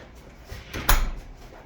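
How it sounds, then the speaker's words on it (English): A single solid thump of a wooden RV camper door closing near the middle, brief and fairly close, with quiet room tone before and after. "make sure the door's shut"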